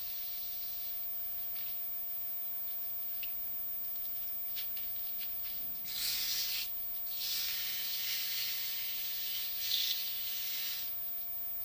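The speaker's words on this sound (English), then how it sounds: "While I'm sanding" Sandpaper rubbing on a wood-turned apple spinning on a lathe, a faint continuous hiss with brief louder scratchy bursts over a steady motor hum, no speech.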